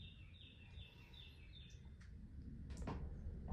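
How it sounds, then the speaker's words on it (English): Faint bird chirps and high tweets drift over the steady low rumble of a stalled cable car, with a few brief scraping clicks near the end. "At least we got the birds to listen to, though."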